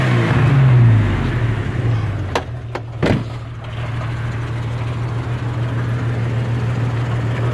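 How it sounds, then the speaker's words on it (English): A Jeep SJ engine with a misfire revs up unevenly and hesitates: a loud, close rush that sags, then a couple of sharp clunks before it settles back to a steady idle hum. Nobody talks. "Let's rev it up. Hear the hesitation on there?"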